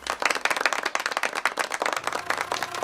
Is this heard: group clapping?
yes